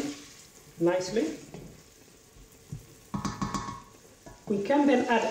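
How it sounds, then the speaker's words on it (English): Onions fry in a pan with a soft sizzle and intermittent stirring scrapes, interrupted by a voice talking over the cooking. "Onions, and they are frying nicely."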